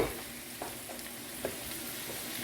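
Vegetables sizzle quietly in a pot while being stirred, a soft steady frying hiss with a few faint scraping strokes and no voices.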